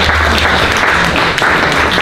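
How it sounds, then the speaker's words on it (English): Audience applause during a talk on N.F.S. Grundtvig, a dense, steady wash of many hands clapping that holds loud and close throughout without any speech. "That deserves applause."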